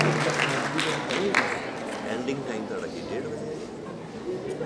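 An arts council festival audience applauds to welcome a guest to the stage, a dense, sustained clapping that fades gradually over a few seconds with murmured voices underneath.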